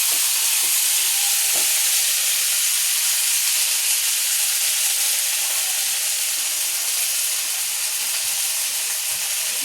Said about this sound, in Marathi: तिला अशी हलवून घ्यायची, जरा तेलातच परतायची.